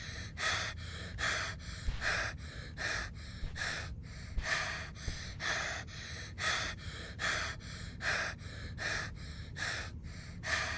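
Deep, rasping breaths from a creature in the horror game Find Yourself repeat in a steady rhythm of loud inhales and exhales, close up and alone without talk.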